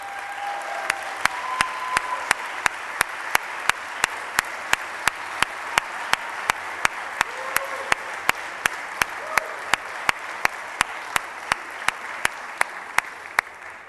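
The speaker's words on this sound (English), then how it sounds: "I'd like to take a moment to give a round of applause for our parliamentarians, Mr. Hugh Brady and Sharon Carter" Members of the Texas House chamber applaud their parliamentarians with a sustained, even wash of many hands clapping, punctuated by sharp regular gavel-like ticks, with no talking over it.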